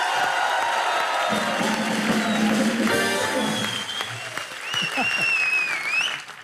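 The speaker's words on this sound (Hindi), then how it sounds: "एक बार जोरदार तालियां हो जाए अनुष्का के लिए" Loud studio audience applause on a Hindi TV comedy show, sustained clapping with cheering and whoops that swell and then ease off, with a high whistle near the end.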